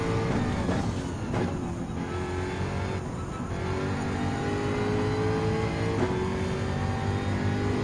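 A race car engine in Gran Turismo 7 at Brands Hatch Grand Prix howls loudly and continuously, climbing in pitch and dropping back as it shifts up through the gears.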